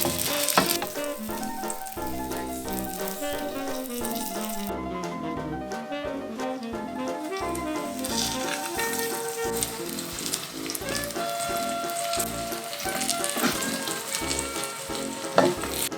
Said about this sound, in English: And you hear the sizzling.